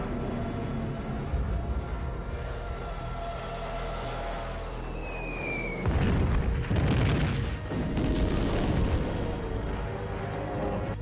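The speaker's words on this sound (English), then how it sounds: "Hitler orders the bombing of Warsaw" Heavy booming explosions from the WWII bombing and artillery fire on Warsaw rumble out over a continuous low roar, with two loud bursts of blasts in quick succession.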